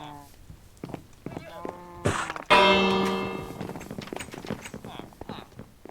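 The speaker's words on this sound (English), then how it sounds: "Alright, that's the go to bed bell." A Minecraft village bell rings out in one loud metallic strike that decays slowly, set among cattle lowing, footsteps and someone talking over the game.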